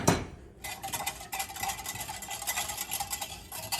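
A spoon stirring hot water in a bowl to dissolve Jell-O gelatin, a rapid run of light scraping and clinking strokes close by, steady for a few seconds with no talk.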